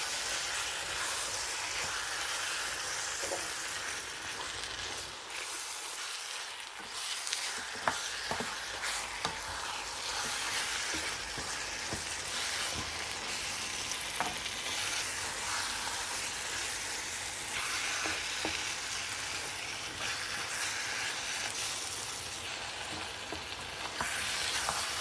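Mutton sears with spices in a hot pan, giving a loud, steady sizzle and hiss that runs unbroken, with a few faint stirring knocks and no voices.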